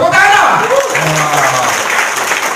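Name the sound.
audience applause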